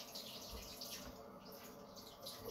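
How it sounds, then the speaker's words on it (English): Water runs steadily from a sink tap while a face is washed, a continuous close hiss with faint splashing throughout. "So let's quickly wash my face."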